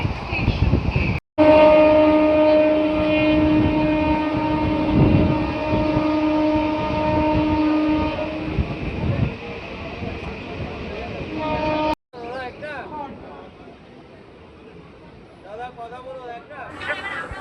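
A local train pulls into Khardaha station on the Budge Budge to Naihati line, its horn blaring loud and sustained for about ten seconds over rumbling wheels, then cutting off, leaving quieter rolling and chatter.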